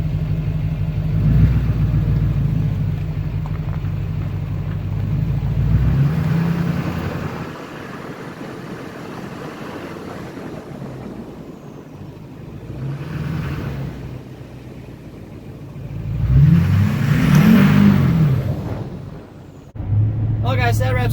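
A vehicle pulls off for a test drive after a Bilstein 5100 front shock install, its engine humming at moderate level with a louder rev-up near the end while someone talks over it.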